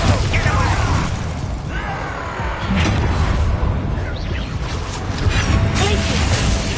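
The Bombarda spell detonates in a video game with loud, dense blasts and crackling debris, sustained booming rumble and scattered bursts filling the scene, and a voice speaking over the chaos.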